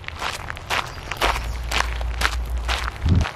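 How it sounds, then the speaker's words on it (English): Feet scuff and crunch over rocks in a steady walking rhythm, close and fairly loud, with a low rumble underneath and no talking. "I love the sound of feet on the rocks."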